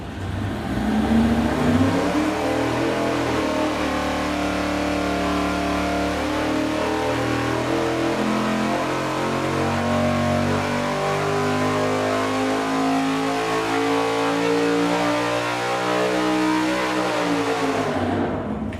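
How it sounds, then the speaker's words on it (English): A big-block Chevy V8 with long connecting rods revs hard and steadily on a dyno, its deep roar climbing and holding near and loud for several seconds before cutting off. "here we go with the long rod engine"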